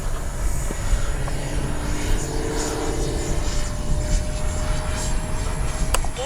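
A Freewing 90mm J-10 RC jet roars past at speed, a continuous whining turbine-like rush holding steady and loud for several seconds with a brief rising sweep at the end.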